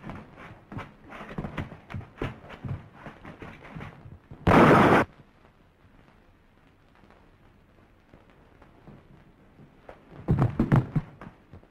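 A single sharp gunshot bursts out loud in a 1934 film scene, preceded by rhythmic knocking thuds and followed by near quiet, then another cluster of heavy thumps.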